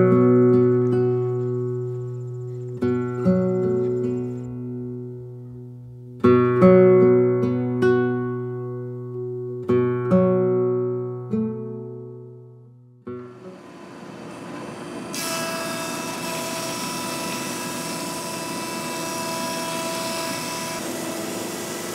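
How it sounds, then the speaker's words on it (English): A wood planer runs a homemade flat-sawn lumber board: the machine hums with tonal whine, spinning up in several bursts, then a loud steady roar of cutting takes over for the last several seconds. "We'll run this through the planer"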